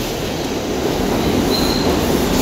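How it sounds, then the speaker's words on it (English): A New York City Subway D train passes through a station, a loud, steady rumble of rail cars with a high wheel squeal partway through, with no voices. "That's a D train, and this is the D train."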